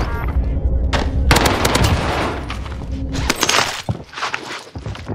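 Owen Gun fire in the video game Warzone on Rebirth Island comes as loud, rapid automatic bursts, with a brief pause between volleys and scattered impact and shatter noises.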